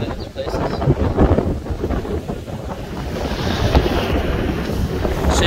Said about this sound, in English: So you can see how the water is smashing against the rocks